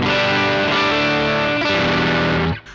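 Electric guitar distorted by a Joyo American Sound amp-simulator pedal, played direct without an amp: thick, saturated chords ring at a loud, steady level, then cut off sharply near the end, with no voices.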